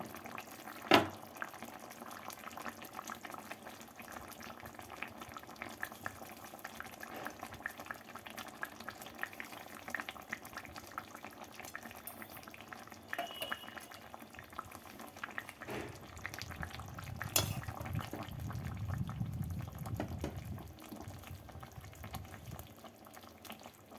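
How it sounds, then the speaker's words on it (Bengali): A pot of rohu fish curry with lentil dumplings, drumstick and potato boiling on the stove, a steady bubbling simmer throughout, quiet and close, with a brief clink near the start and a louder burst of bubbling later, no talking. "ধনে পাতা দিয়ে মাছগুলোকে দু মিনিট মতো আরও ফুটিয়ে নেব"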